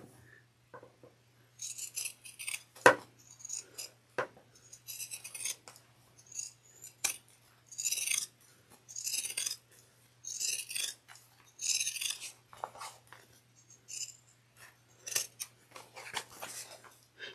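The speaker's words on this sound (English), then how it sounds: "I've already have the scissors out, I'm just gonna finish it." Scissors snip repeatedly in a quick, uneven rhythm, close and crisp, with short pauses between bursts of cuts.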